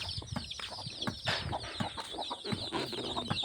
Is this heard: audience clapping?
no